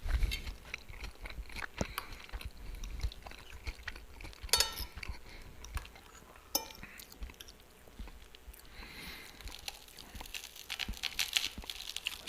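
Close, irregular crunching bites and chewing of slightly burned crunchy toast, with occasional soft clinks and rustles in a quiet room.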